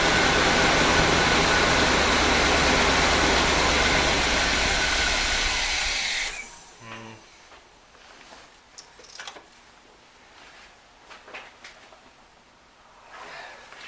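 A restored 1975 Chevrolet Corvette C3 convertible engine runs loud and steady for about six seconds, then shuts off, leaving quiet clicks and faint shop noises.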